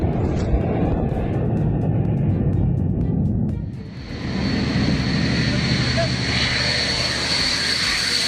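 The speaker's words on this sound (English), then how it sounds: "a massive C-160 transport plane screamed just inches above his head" A massive C-160 transport plane passes low overhead with a loud, sustained engine roar that dips briefly and then swells again with a high whine.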